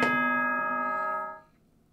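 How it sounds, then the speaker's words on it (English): Two-tone electronic ding-dong school announcement chime from the video game Danganronpa: Trigger Happy Havoc, ringing bright and bell-like with sustained harmonic tones that fade out after about a second and a half. "Ding dong, ding dong."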